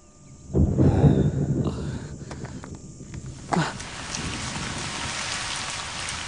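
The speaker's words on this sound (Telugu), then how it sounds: "వర్షం పడుతోంది, వెళ్ళిపోదాం." Rain falling steadily outdoors, a continuous even patter that builds in the second half, with a brief shuffling burst and a sharp knock near the start.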